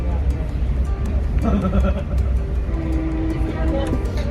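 A train running along a railway in Alaska, a continuous low rumbling and rattling with a few tonal squeals, heard close with voices talking over it.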